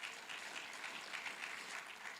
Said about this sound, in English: we'll give one round of applause to each of them